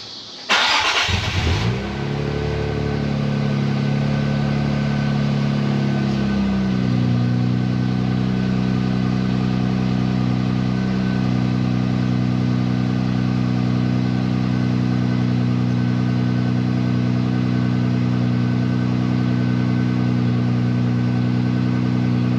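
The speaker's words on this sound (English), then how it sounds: "So I'm going to go ahead and give y'all a cold start." An Infiniti Q60 engine cold-starts: it cranks and catches, revving briefly high before settling into a steady, loud idle that runs on without interruption.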